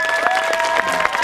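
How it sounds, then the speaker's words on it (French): Circus show audience applauding the children performers, a dense steady patter of many hands clapping throughout, loud and continuous with a few sharper individual claps standing out. "Je pense qu'on peut les applaudir bien fort pour les enfants"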